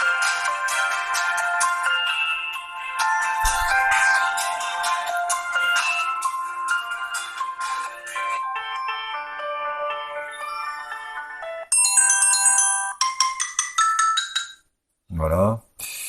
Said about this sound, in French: Son et notification. Mode son. Volume sonnerie.